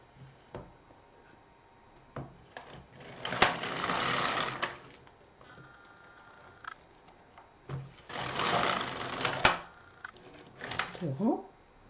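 Knitting machine running two rows for a two-colour fancy beanie, its carriage sweeping in two long rattling, clicking passes separated by quieter handling, close and moderately loud.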